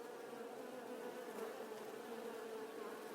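Bees buzz steadily at a hive in an apiary during honey production, a dense, continuous droning hum that stays at an even level throughout with no voices.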